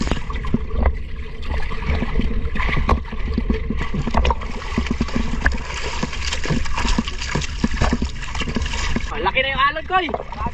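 Sea water sloshes and splashes steadily around a small fishing boat at sea, close and fairly loud throughout, with engine-like rumble beneath and voices talking briefly near the end.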